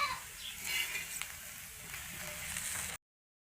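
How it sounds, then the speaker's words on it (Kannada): Vegetable palya frying in a little oil gives a soft, steady hiss and crackle that runs for about three seconds, then cuts off into silence. "ಹುರಿಯೋದು ಪಲ್ಯ ಮಾಡೋದ್ರಿ. ಸ್ವಲ್ಪ ಎಣ್ಣೆ ಹಾಕ್ಕೊಂಡಿದ್ದು"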